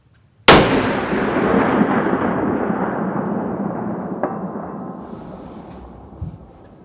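A single muzzle loader rifle shot fired at a target 1000 yards away: one loud, sharp blast close by, followed by a long rolling echo that fades slowly over several seconds, with a faint distant thump near the end.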